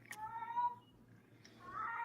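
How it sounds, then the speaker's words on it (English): A house cat meows twice, a short cry near the start and a longer, rising one at the end, fairly close over faint room noise. "Is that my cat or your cat meow?"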